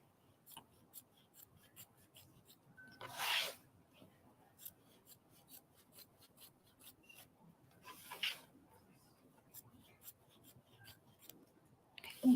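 Scissors trim away fabric around a quilt applique: quiet, close snips and soft rustling of cloth, with two brief louder cutting strokes among light handling noises.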